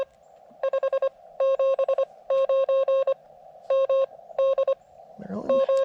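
Morse code CW signal from a ham radio station, received off frequency during a low-power portable parks contact on a KX2 transceiver: clear keyed tone bursts in groups over a steady radio hiss, ending in a brief burst of noise.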